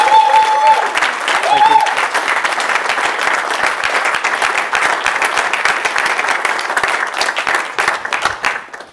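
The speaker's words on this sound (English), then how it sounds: "please a round of applause for Ian." Sustained audience applause at a music talk in London, dense and steady clapping from a crowd that fills the whole stretch before tapering at the end.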